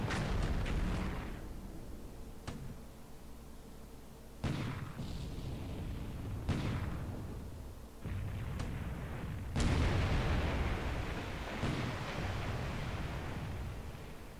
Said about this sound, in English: Alright, daytime surface attack. Putting that deck gun to good use.